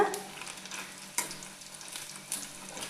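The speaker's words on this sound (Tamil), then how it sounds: "தோடு பெர்ஃபெக்டாக நாம் ஃப்ரை பண்ணிட்டோங்க" Mussels frying in oil in a covered pan, a close, continuous sizzle and crackle with a couple of sharp pops and clicks over about three seconds.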